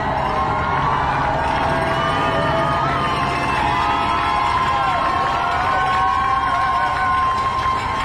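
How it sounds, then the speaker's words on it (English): A crowd lining the streets cheers marathon runners during the race, a steady wash of distant shouting, whoops and children's voices, loud and continuous throughout. "people lining the streets, cheering everyone on, the community of it all"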